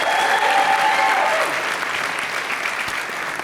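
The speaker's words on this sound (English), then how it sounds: "let's have a round of applause for everybody on our team" An audience at the Dark Harbor 2025 event claps in a sustained wave of applause, loud and steady throughout, tapering slightly near the end.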